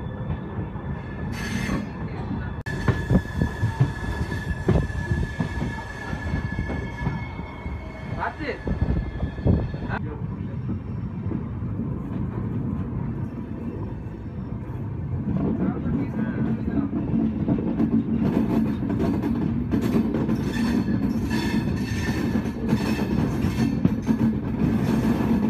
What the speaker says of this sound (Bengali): ট্রেন এই সবেমাত্র ছাড়লো এসএমবিটি স্টেশন থেকে